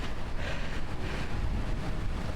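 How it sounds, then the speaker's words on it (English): Steady wind roars across the microphone during an early-morning road bike ride on an old Peugeot, a dense, buffeting rush that continues without a break and with no voices. "Feels like that wind's turned a little bit."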